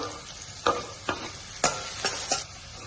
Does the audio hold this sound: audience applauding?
no